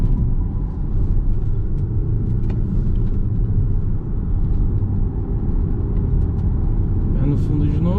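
A Volvo XC60 2.0 turbo plug-in hybrid SUV accelerates hard, heard from inside the cabin as a heavy, steady low rumble of engine and road noise, with a person talking over it.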